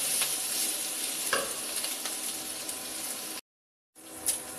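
Pork belly browns in a pan with no oil, a dense, hissing sizzle running steadily and fairly loud, with an occasional scrape of stirring, cut by a short silence before the sizzle resumes.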